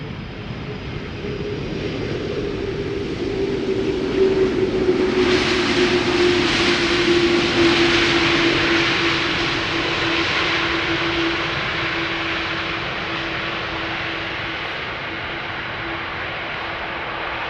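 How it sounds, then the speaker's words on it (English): A Delta Air Lines Airbus A330-300 arriving at Schiphol from Atlanta passes with a steady engine whine and broad roar that swells, then fades gradually as it moves away. "this is Delta Airlines Flight 74 arriving from Atlanta, Georgia. It's an A330-300"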